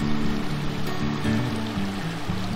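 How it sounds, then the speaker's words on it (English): A creek-sized river flows with a steady, loud rushing wash of water close by, and a low hum runs underneath throughout, with no talking. "So this river is a little louder than the last spot"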